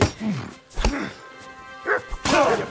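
A dog barks several times in Kingdom Come Deliverance 2 as short, sharp, loud yaps scattered over a few seconds, mixed with game thumps and background noise.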